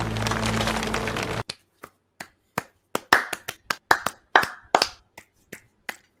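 People clap while watching a Game of Thrones episode: a short burst of busy clapping, then a slow run of separate, sharp hand claps with silent gaps between them.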